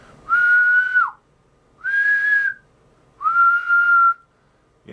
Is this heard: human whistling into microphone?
yes